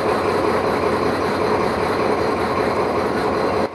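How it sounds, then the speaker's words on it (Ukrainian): Passenger train from Budapest pulling into Mukachevo station on a test run, a loud, steady rumble of wheels and carriages rolling close by, cutting off just before the end. "Потяг з Будапешта нарешті прибув на станцію Мукачево."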